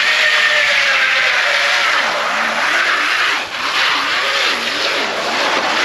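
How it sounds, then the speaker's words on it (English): A Sur Ron electric dirt bike on duct-tape-wrapped tires spins through a burnout, giving a loud, sustained screech with a wavering, swooping pitch and a brief dip midway, close and without voices. "let's hit a little burnout"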